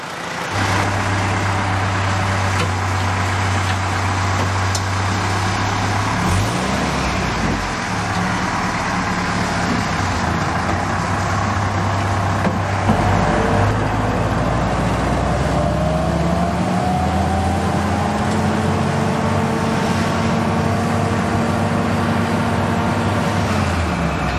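An engine idles steadily after carburetor work, giving a loud, continuous low rumble. The drone shifts in pitch a few times and has a slight uneven waver running through it.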